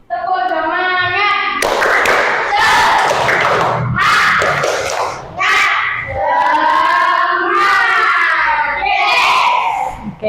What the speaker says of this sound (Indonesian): Siapa yang mau memimpin tepuk semangat teman-temannya?